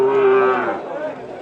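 A local cow at a busy cattle market in Panchagarh gives a single close, loud moo that tails off after about a second.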